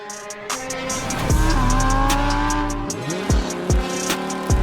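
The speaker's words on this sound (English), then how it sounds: "Here's the Porsche everybody wants." A Porsche sports car on a New York street revs hard and close, its engine note rising and falling, with tire squeal and sharp bursts as it pulls away.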